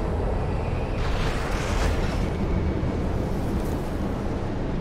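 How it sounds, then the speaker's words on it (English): Missile blasts in Armored Core VI, a roaring wash of explosive noise with a sharper burst near the start and a rumbling, rushing tail that stays loud throughout, no speech. "I see the missiles"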